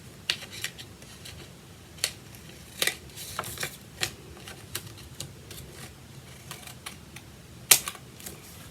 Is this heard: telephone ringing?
no